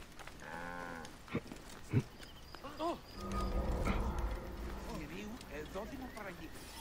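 A cow moos in the video game Assassin's Creed Origins, a long low drawn-out call in the middle of the scene, with other farm animal sounds and a voice speaking briefly around it.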